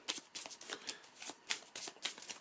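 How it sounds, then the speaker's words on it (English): Rune cards for a Norse-themed board game being shuffled by hand, a quick run of crisp riffling bursts in an uneven rhythm, close and fairly quiet, with no talking. "We shuffle them up."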